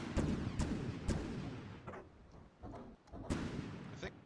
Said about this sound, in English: It seems to fire volleys of shells